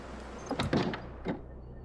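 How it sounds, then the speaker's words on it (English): A door swinging shut in the survival video game The Long Dark, a short muffled thud with a brief latch knock after it, heard alone. "I think you might even be able to hear it now if I shut this door."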